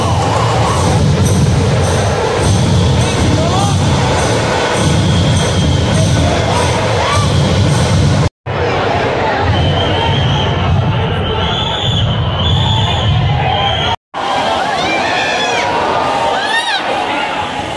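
Dense crowd noise at a rainy Ganpati arrival procession in Mumbai, a loud continuous hubbub of voices and cheering with throbbing background sound, broken by two brief cuts.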